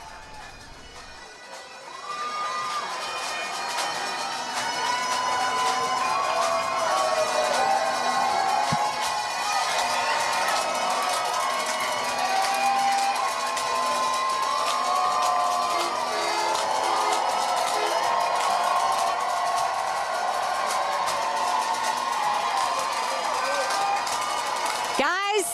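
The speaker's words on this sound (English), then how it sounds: "Let's listen in once again as we hear the crowd." Loud, dense crowd noise fills a Tennessee Vols College World Series national championship parade, a steady roar of cheering and shouting that swells after a quiet first two seconds and holds strong to the end.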